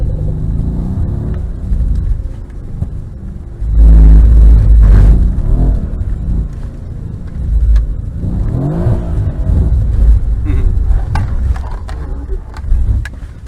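A Mercedes-Benz car on a track revs hard and accelerates, the engine surging loudly close by, easing off and building again in waves while occupants talk over it now and then.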